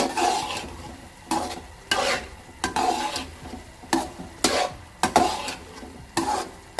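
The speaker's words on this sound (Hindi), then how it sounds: "स्लो स्लो करके मैं इसमें अंडे डालती जाऊंगी और साथ साथ उसको मिक्स करती जाऊंगी" Beaten eggs being stirred into carrot halwa in a pan, with repeated scraping strokes about every second under a steady soft sizzle, close and moderately loud, no voices.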